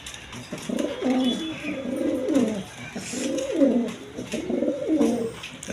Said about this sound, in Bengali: দেখেন একদম কোয়ালিটি সম্পন্ন কবুতর